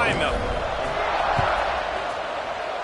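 Steady roar of a stadium crowd at kickoff in the NCAA 26 college football video game, a dense continuous wash of fans cheering throughout with no clear breaks.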